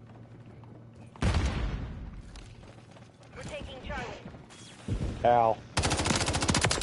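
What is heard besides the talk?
gunfire and explosions in the video game Modern Warfare III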